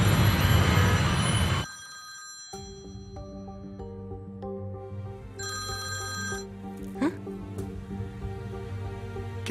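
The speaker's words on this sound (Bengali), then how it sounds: "কিরে, ফোনটা ধরলি না কেন?" A telephone ringtone plays as a melodic electronic tune with repeating tonal phrases, clear and close, after a burst of loud noise at the start, with no talking.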